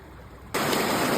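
Brook water flowing near a beaver dam on a Newfoundland trapline, a steady broadband rush that cuts in abruptly partway through and then holds loud and even with no talk.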